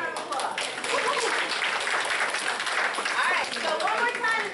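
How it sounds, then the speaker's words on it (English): A group at a hustle dance class held by a USA Dance chapter gives a dancer a round of applause, continuous brisk clapping from a small crowd with voices murmuring underneath. "Give her a round of applause."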